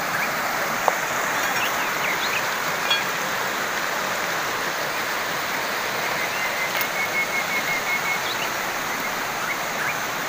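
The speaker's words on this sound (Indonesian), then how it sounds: "ini sungai." A river stream flowing down a steep, slippery slope, a steady broadband rush of water running continuously and fairly loud throughout, with no voices.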